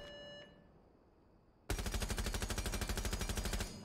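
Rapid automatic rifle fire in Rainbow Six Siege, a loud sustained burst of evenly spaced shots lasting about two seconds after a quiet lead-in, then cutting off abruptly.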